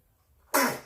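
After a brief near-silence, a single sharp sneeze bursts out, loud and close, then trails off quickly.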